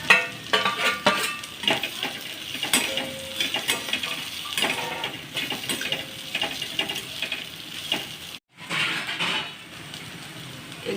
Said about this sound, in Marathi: भेंडी आपण परतून घेऊया।